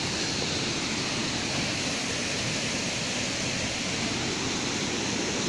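A waterfall in Barot valley roars as a dense, steady broadband rush, loud and unbroken throughout with no voices heard.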